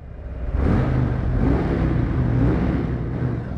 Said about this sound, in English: we're gonna give it some revs, right?